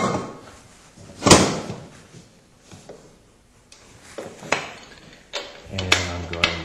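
Metal lid of a home pressure canner set onto the pot, a sharp clank followed by scattered lighter knocks and scrapes, close up, with someone talking in between.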